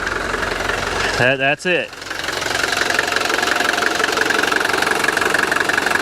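A 1983 Mercedes 240D diesel engine idles steadily with a low, knocking clatter, running on throughout after a brief spoken remark near the start.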